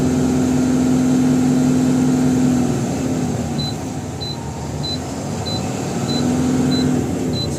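A Mahindra Blazo BS6 truck engine runs close by with a steady diesel drone that surges and eases as it is revved, while a high electronic beep repeats at regular intervals.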